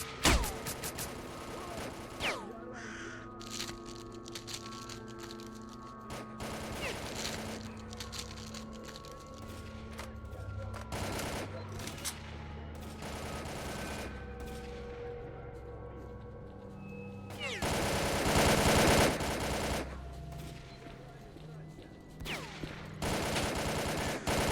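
Gunfire in the shooter S.T.A.L.K.E.R.: Call of Pripyat, with repeated sharp shots and bursts, some close and loud, others further off, scattered irregularly through the clip alongside rumbling game ambience.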